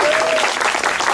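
A hall full of people claps loudly in a dense, continuous round of applause at a scout and guide investiture ceremony.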